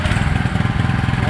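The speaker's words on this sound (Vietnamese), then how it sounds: "Máy đề mới nó nhẹ lắm, giật nhẹ nổ rồi." A Kubota DP-4WD hydraulic dump carrier's small engine runs with a rapid, even chugging pulse just after firing up, loud and close, with no talk over it.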